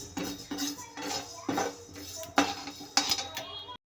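About a cupful of coriander seeds dry roasted in a pan: repeated scraping clinks of a spoon stirring against metal, roughly every half second, close and moderate, with faint speech in the background.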